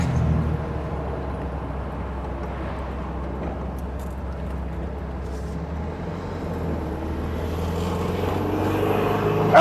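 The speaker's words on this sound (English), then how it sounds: "I don't know, it's the first time I'm driving it" A 1972 Karmann Ghia engine runs while the car is being driven, giving a steady low drone with road rumble that holds nearly constant throughout and swells slightly toward the end, with no voices.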